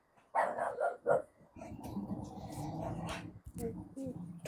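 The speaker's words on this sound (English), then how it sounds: "Darn fucking dogs." Dogs barking in a home, several sharp barks near the start followed by a busy stretch of barking mixed with speech from people talking over them.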